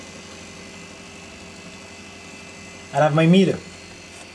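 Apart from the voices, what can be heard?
freezer compressor running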